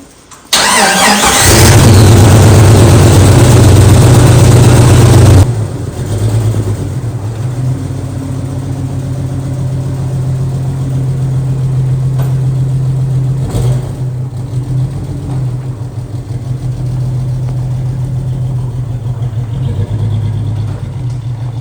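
A garage-built Jeep Cherokee engine cranks and fires with a loud, harsh burst, revs briefly, then drops into a steady, throbbing idle that runs on for many seconds nearby.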